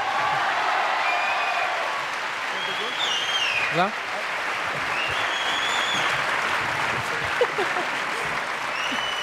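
A French TV variety show studio audience claps in sustained, dense applause, with a host's voice and other voices talking over it.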